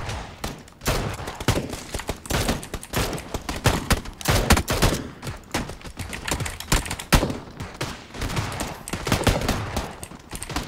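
Rapid gunfire in a survival video game, bursts of sharp shots and automatic fire crackling densely throughout, loud and close with brief gaps between volleys.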